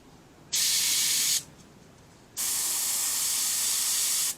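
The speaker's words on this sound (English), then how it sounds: "when you spray your airbrush, it comes out clean." An airbrush spraying clean after being rinsed of paint residue, two bursts of bright steady hissing, a short one then a longer one, separated by quiet.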